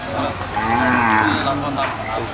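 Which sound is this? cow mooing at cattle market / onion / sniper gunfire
cow mooing at cattle market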